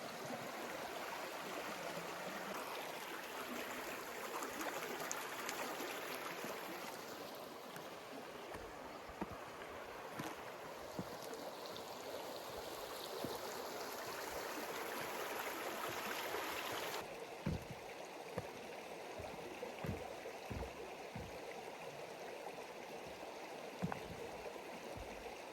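Small creek rushing steadily beside a Montana campsite with leftover ice and snow, a dense continuous wash of flowing water with scattered faint knocks and taps.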